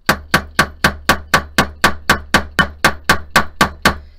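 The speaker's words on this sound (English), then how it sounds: "when you hit your metal with your texturing hammer, you're going to get the pattern that's on the surface" A checkerboard texturing hammer strikes metal in a steady run of about sixteen sharp, ringing blows, evenly spaced and loud at close range, with no voices.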